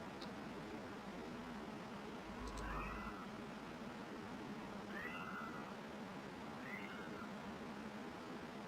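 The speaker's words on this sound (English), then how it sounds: "I hear you, cats." Cats in a space strategy game meow a few times, drawn-out mewing calls spaced apart over a steady hiss of background noise.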